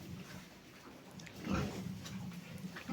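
Pigs grunting and snuffling nearby on a farm in Kolomyia district, Ukraine, low irregular oinks rising and falling over a few seconds with no talking.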